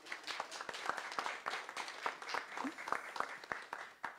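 Audience applause at an event on careers in Quebec's helicopter industry, a steady patter of clapping hands with a few distinct sharp claps, moderately close and fairly quiet.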